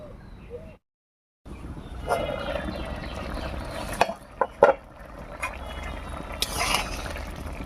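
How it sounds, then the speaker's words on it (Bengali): A metal lid comes off a pot of simmering lentil dal with a couple of quick clinks midway, set against soft bubbling and liquid sounds from the pot. "এবারে ঢাকাটা তুলে নিচ্ছি"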